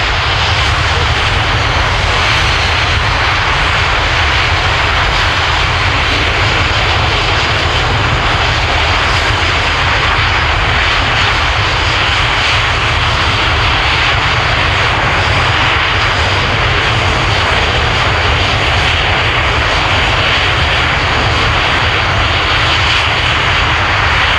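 A military jet roars steadily overhead at an airshow, a loud sustained engine wash that fills the whole stretch without letup.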